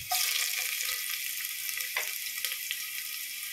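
Whole garlic cloves and ginger fry in a pan for a desi-style chicken curry, giving a steady close sizzle with a couple of brief stirring scrapes and no voices.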